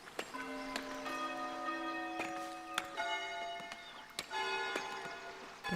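A church bell tower in the video game Foundation rings with a series of resonant, sustained metallic strikes whose overtones linger and overlap, fairly quiet and heard alone.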